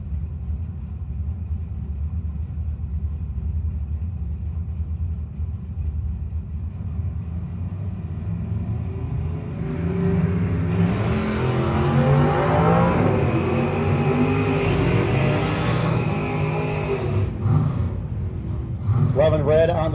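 Drag race cars, including a third-generation Camaro, launching at a No-Box 660 Shootout, a steady engine rumble swelling into a louder roar midway, with an announcer talking throughout.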